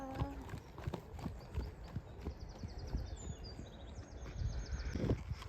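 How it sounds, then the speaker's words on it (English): A horse trots during a riding lesson, its hooves striking in a steady two-beat rhythm on the ground, moderately close, with faint birdsong in the background. "with Albi, he's a proper horse and we have to take it more slow than usual"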